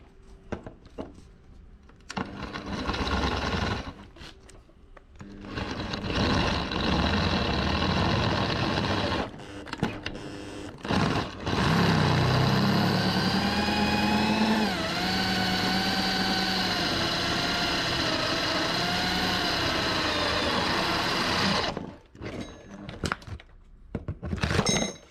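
A drill bores into metal supports for zinc anodes on a boat hull, with a loud, steady whining grind that runs for long stretches, shifts in pitch, and pauses briefly between bursts.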